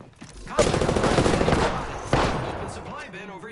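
Loud rapid automatic gunfire in Apex Legends rattles in a dense continuous burst, followed by a second sharp volley, mixed with game effects.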